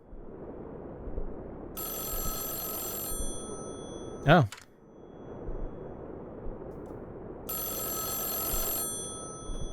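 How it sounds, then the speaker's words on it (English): A telephone bell rings in the video game MOTHERED: two long bursts of bright ringing separated by a pause, with a brief voice in between. "The phone's ringing."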